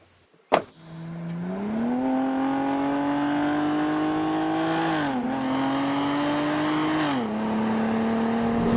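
A Cadillac ATS sedan's GM V6 starts with a sharp burst, then pulls hard with a rising, steady engine drone through two shifts, loud and close with no talk.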